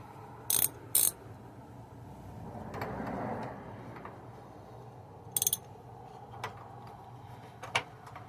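A ratchet with an O2 sensor socket snugs up a NOX sensor on an Isuzu NPR/NRR truck, giving a few sharp, separate clicking bursts against quiet background noise.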